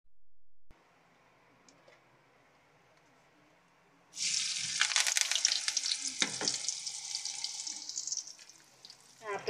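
After a few quiet seconds, onions suddenly hit hot oil with cumin and sizzle loudly, the frying continuing close and steady with some stirring, for a dal tadka.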